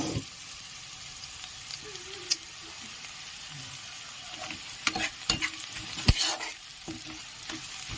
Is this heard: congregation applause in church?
no